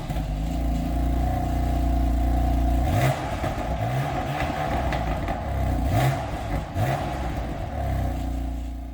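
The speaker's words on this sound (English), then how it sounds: "now guys, we're also gonna test that exhaust note for you." A BMW M4 Convertible with a 3.0-litre turbocharged inline-6 idles loudly nearby, then its exhaust snaps through several quick revs that rise and fall in repeated blips.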